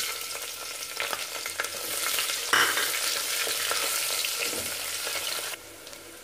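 Onions sauté in a pan for tomato pulao, hissing steadily up close while a spatula stirs with occasional scraping clicks, the sizzle dropping near the end; nobody speaks.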